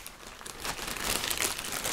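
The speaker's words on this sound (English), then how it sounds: "So now let's put it back on this plastic bag." Plastic bag crinkling and rustling close up, a steady broadband crackle that swells louder in the second half, with no talking.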